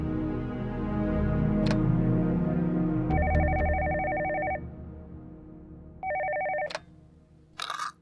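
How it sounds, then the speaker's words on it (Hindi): A telephone bell rings in two clear bursts indoors in a Pakistani drama scene, loud and close, with a low background hum and short clicks around the rings. "आप जरा फोन लगाए उन्हें, उनसे कहे तैमूर साहब अपनी बेटी को लेने आए"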